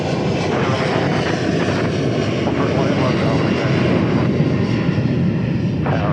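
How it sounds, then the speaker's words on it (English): An Airbus A319 landing at DFW Airport produces a loud, steady broadband engine roar that holds throughout, with faint radio chatter underneath. "That A319 that just landed from Denver."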